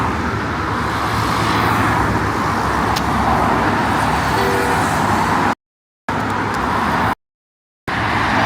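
Cars drive past steadily on a one-way road through Abuja's Central Business District, near a bridge, a continuous broad traffic roar with no voices.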